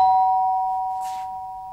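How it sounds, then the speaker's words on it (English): A doorbell rings once with a clear, steady electronic tone that holds and slowly fades. It sounds close and alone, with no voices. "Just then the doorbell went."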